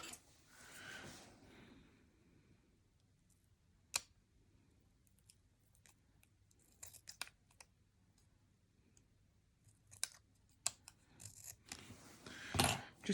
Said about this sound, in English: I'm going to trim a little bit off this.